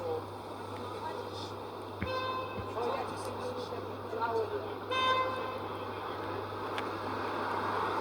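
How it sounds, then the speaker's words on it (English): Several car horns toot at intervals on a busy city street near Yonge Street, some short, some held, over steady traffic hum while someone talks nearby. "A lot of people honking."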